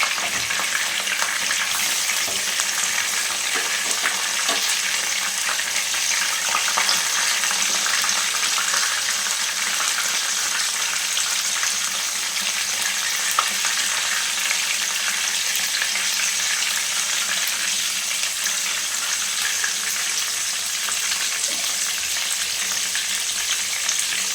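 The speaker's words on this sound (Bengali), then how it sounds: "ভালোভাবে লাল করে দুপাশ করে ভালো করে ভেজে নিতে হবে" Eggplant slices fry in hot oil over a high flame, a steady, loud bubbling sizzle that carries on evenly for the whole stretch with faint occasional crackles and no voices.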